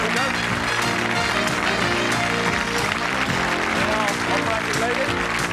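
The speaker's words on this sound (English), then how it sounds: "Give them a nice round of applause, each and every one of them." A studio audience applauds game show contestants on a UK television series, steady clapping under bouncy theme music that plays throughout.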